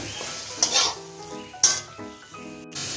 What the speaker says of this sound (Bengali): এখন এটাকে ভালো করে মিশিয়ে 1 মিনিটের মতো রান্না করে নিচ্ছি।